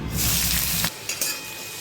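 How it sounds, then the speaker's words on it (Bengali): Bitter gourds go into hot oil and set off a loud, close, bright crackling sizzle that breaks off abruptly partway through. A few soft clinks and quieter sizzling follow, with no talk. "চলুন, তেলটা গরম হয়ে গেছে, বা করলাগুলো দিয়ে দেবো।"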